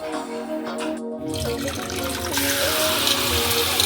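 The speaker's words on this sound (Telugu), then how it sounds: "ఇవి శుభ్రంగా కడిగినండి." Tap water runs and splashes as mung beans, chickpeas and peanuts are rinsed in a kitchen, a continuous close wash that briefly cuts out near the start before flowing on strongly.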